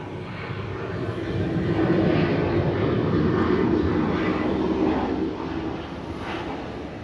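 Delta airliner arriving at Atlanta airport, a sustained engine roar that swells and holds in the middle, then eases slightly, heard from a moderate distance.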